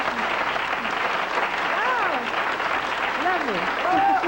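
Sustained applause from a 1981 New York TV studio audience greeting Peggy Lee, a steady roar of many clapping hands with a voice speaking over it.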